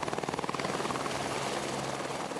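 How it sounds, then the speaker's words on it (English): A helicopter arrives for refuelling in Tasmania's Picton Forest, its rotor chop loud, steady and rhythmic with a broad engine roar, fairly close and with no voices. "The helicopter arrives to be refueled."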